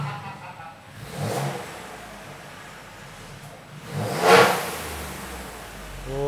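A car with a new exhaust and valves open revs on a dyno: two rising, whooshing engine swells separated by a quieter idle, heard from a moderate distance.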